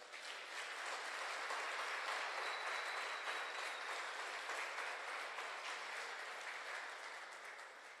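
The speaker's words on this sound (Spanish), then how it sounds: "Si usted lo cree, regálele un aplauso al Señor." A church congregation applauds during a Spanish-language sermon, a steady, even wash of clapping from many hands that holds for several seconds, heard alone without speech, then eases slightly.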